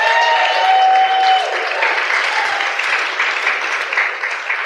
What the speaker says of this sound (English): Let's give Dana a round of applause.